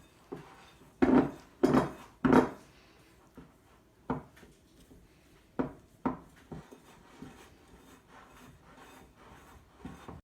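Gingerbread biscuit ingredients mixed by hand in a bowl: a series of separate knocking, scraping thuds, three loud ones close together early, then softer irregular knocks with quiet gaps.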